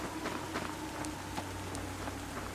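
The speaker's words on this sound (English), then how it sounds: "And it's raining all of a sudden?" Rain falls steadily in the Devour horror video game, a soft continuous patter with scattered drops tapping a surface, faint and even throughout.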